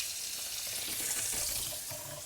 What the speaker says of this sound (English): the water's coming out of the wall into this, doing its filtration, and then back up into my tap